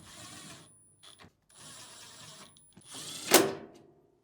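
Short bursts of small mechanical clicking and ratcheting as four screws are reinstalled in a Samsung appliance's control panel, ending in a louder sharp rattle near the end.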